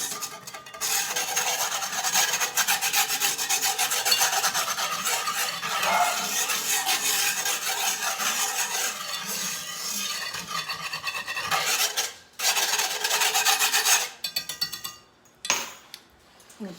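A utensil scrapes and rubs across the bottom of a pan to lift browned bits after chicken broth is poured in, a continuous rasping scrape that stops briefly near the end, with no talking.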